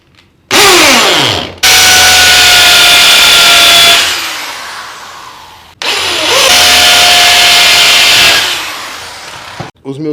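A power drill bores dowel holes in wood, with two loud, close bursts that each whine up to speed, grind steadily for a few seconds and then wind down.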